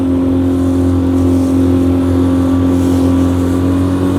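A 9.9 hp outboard motor on a dinghy runs loud and close, a steady droning engine hum holding constant throughout without pauses or talk.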